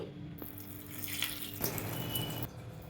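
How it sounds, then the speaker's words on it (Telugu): Water splashes steadily into a cooking pan while bitter gourd curry is being made, a continuous close pouring and running sound that holds for about three seconds with no talk. "ఇదిగోండి వాటర్ అయితే వేసాను"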